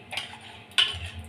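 Metal spoon stirring dal in a cooking pot after salt has been added, heard as two short scraping clinks a moment apart, close and fairly quiet with no talk.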